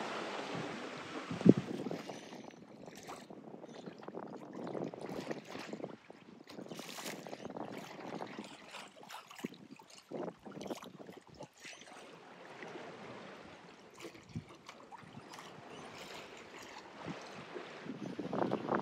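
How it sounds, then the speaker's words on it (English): A sailboat cruising in the Balearics at about 4.5 knots in a light beam wind, with continuous wind buffeting on the microphone and water rushing and slapping against the hull as it bounces through small waves. "Get a few waves sometimes when it bounces a bit, but it's great sailing."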